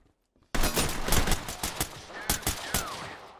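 Gunfire in the tactical shooter Ready or Not, starting abruptly after a brief quiet and continuing as a loud, close burst of rapid shots with uneven sharp cracks and no talking.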